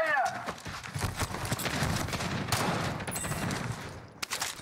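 Gunfire in Call of Duty Warzone, a battle royale shooter, crackles as dense, continuous bursts of shots from a hillside, loud and busy throughout, with players talking over the fighting.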